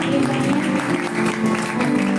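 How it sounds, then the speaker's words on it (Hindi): Audience applause fills a gathering hall, a dense, moderately loud patter of many hands clapping with some voices mixed in, lasting a couple of seconds. "मैं चाहती हूँ एक दफ़ा जोरदार तालियां"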